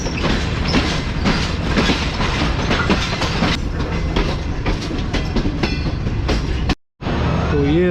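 The Tezgam passenger train, led by locomotive GU 204565, rumbles loudly and steadily with rhythmic wheel clatter on the rails, broken by a brief sudden drop to silence near the end.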